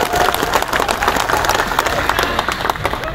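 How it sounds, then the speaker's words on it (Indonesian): A crowd at an Indonesian labour rally gives loud, sustained applause for the national police chief, dense clapping filling the space from start to finish with a few scattered cheers mixed in. "mari kita beri aplaus yang meriah buat beliau"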